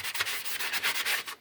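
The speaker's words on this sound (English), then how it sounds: "So I'm just getting it with the sanding block." A sanding block scrubs flash rust off a classic Oldsmobile cylinder head, quick back-and-forth rasping strokes in a steady rhythm, close up and moderately quiet, with no talk.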